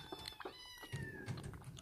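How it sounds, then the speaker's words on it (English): A small wild cat gulps milk with quick wet laps and swallowing sounds, close and faint, in short uneven bursts. "You can just hear him gulping it down."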